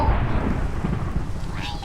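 Thunder from a lightning strike in the Minecraft Pixelmon video game, a dense low rumble rolling steadily for the whole moment alongside game audio, with a voice talking over it.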